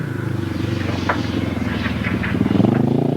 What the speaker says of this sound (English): Likes to hear the engine revving, does Clive Holland.